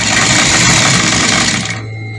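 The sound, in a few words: industrial sewing machine stitching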